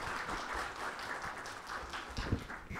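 Brief, fairly faint applause from an audience at a presentation session, soft scattered clapping with a slightly louder clap near the end.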